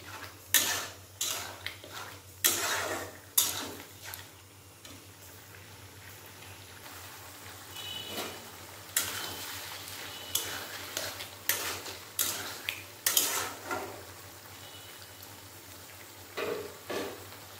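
Bottle gourd being stirred and dry-fried in a pan makes a quiet background hiss, broken by repeated sharp scrapes and clacks of a spoon against the metal. The strokes come in bursts with short pauses between them, close up and with no voices.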